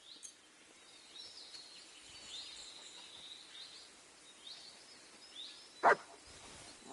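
In the video game Kingdom Come II, a dog gives a single sharp bark near the end, standing out against a faint outdoor backdrop of birds and insects.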